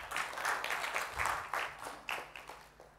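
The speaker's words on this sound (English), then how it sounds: "I would give him a round of applause for that." Audience applause at a talk on agile testing, a moderately sized room clapping in uneven bursts that thin out and fade toward the end.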